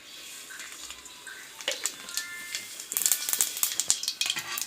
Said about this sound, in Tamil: இப்போ கடுகு நல்லா பொடிஞ்சிச்சு.